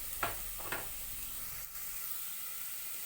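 Grated carrot sautéing in a pan for carrot payasam gives a faint, steady sizzle, broken early by two quick scrapes of a spoon against the pan, then settling into a soft hiss with no voices.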